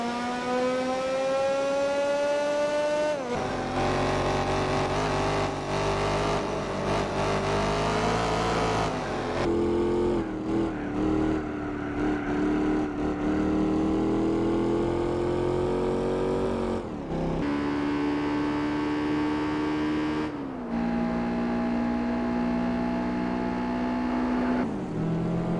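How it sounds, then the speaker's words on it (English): Racing car engines from Gran Turismo 4 with the Randomizer mod, loud continuous revving that rises and drops through gear shifts, with several distinct engine tones in succession and no talk. "new engine sounds for many cars"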